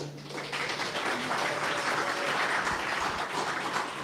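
Audience at a community AI-for-designers meetup gives the host a round of applause, a steady, moderately loud patter of many hands that holds evenly for about four seconds.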